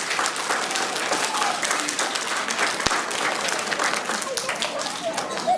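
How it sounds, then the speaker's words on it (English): Loud, sustained applause from a large school assembly audience for the musicians, dense clapping filling the whole stretch with a steady roar and a sharp knock midway. "let's do one more big applause for the musicians."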